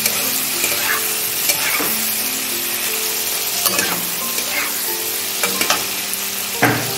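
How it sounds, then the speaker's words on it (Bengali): Ridge gourd and potato fry with salt in a pan, giving a steady close sizzle broken by repeated scraping stirs, with no talk. "নুন দিয়ে আর একটুক্ষণ আমি ভেজে নেব।"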